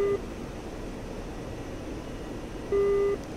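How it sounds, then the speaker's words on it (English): Radar warning beeps from the DCS World flight simulator: a clipped tone at the start and a longer steady tone near the end, both sounding alone over a low, quiet background hum. "Getting a radar beep, that's what that is."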